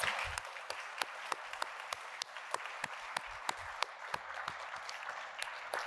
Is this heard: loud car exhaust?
no